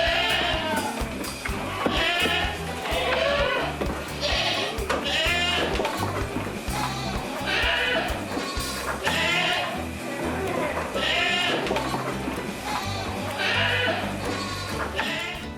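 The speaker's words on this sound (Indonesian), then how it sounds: "Kambing ini usianya kurang dari 3 bulan, jadi masih menyusu dengan induknya." Goat kids under three months old, still nursing, bleat repeatedly in overlapping high calls close by, over continuous rural background noise with some talk mixed in.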